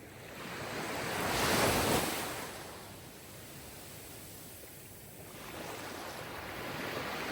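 Sea waves roll in and break, a broad rushing wash that swells to a peak, recedes into a softer seething hiss, then builds again, with some wind buffeting and no voices.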